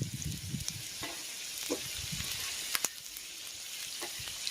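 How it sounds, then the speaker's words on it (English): Minced garlic, about six cloves, sizzles in a pan on a Camp Chef Explorer outdoor stove, a close frying hiss with a few scraping stirs and utensil clicks, no voices. "We want to brown the garlic, but we don't want it burnt."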